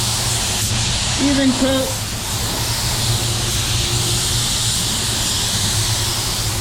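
Spray gun laying down a medium wet matte finish coat on a car's front end and hood, a steady broadband hiss running throughout, with a brief spoken remark near the start.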